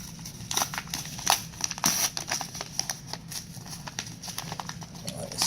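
Mail package holding a comic with an original sketch cover being opened, with crinkly crumpling and tearing of packaging material in close, irregular bursts and rustles.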